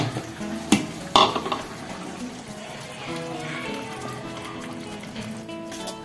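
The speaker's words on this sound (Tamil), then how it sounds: "இப்ப நம்ம அரைச்ச பேஸ்ட் இருக்கு பாருங்க, தேங்காவும் முந்திரியும் அதை எடுத்து போட்டுக்கலாங்க" Ground coconut and cashew paste goes into a pan of channa masala: two sharp clinks of a utensil against the pan, then quiet stirring and a low sizzle.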